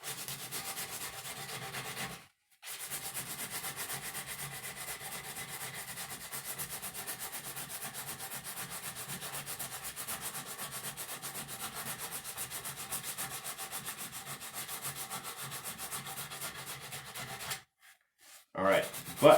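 Steady rubbing of sandpaper on wood for a guitar build, worked outdoors on a cold winter balcony; continuous even strokes that run for a long stretch, pausing briefly near the start and again near the end.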